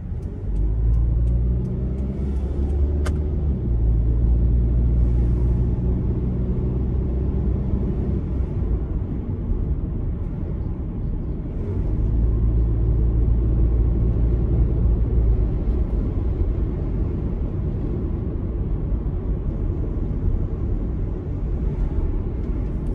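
A car drives along Naujakurių street and draws nearer, its engine a steady low rumble that swells and shifts in pitch, close and fairly loud throughout with no talk.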